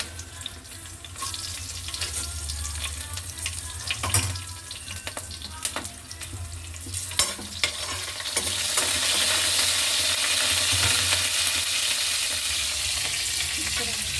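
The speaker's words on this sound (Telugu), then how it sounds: "జీలకర్ర వేగింది, పచ్చిమిరపకాయలు వేస్తున్నాను" Green chilies are added to cumin seeds frying in a pan. A steady hiss of oil follows, with a few clattering stirs, and the sizzle swells louder and brighter about halfway through.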